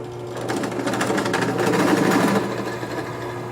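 A drill whirs with a steady motor hum while its bit grinds into an aluminum CNC rail part, the cutting rattle swelling briefly in the middle before easing off.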